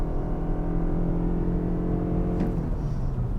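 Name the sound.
Lexus ES 300h F-Sport hybrid accelerating at full throttle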